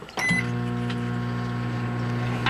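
A microwave oven starts with a click and then hums steadily with a loud, close electrical drone, running continuously after the door shuts.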